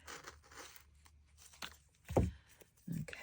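Scissors cut through paper beside a plastic bag in a craft journaling session, giving a couple of short, close crisp snips and tearing crunches separated by quiet handling sounds.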